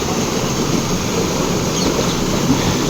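A continuous heavy rush of water pours out steadily from an 8-inch pump pipe, a loud broad roar that never lets up.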